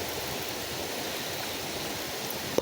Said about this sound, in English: We getting the rain, and I mean it's pouring.